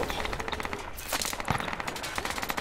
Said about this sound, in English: Gunfire from the north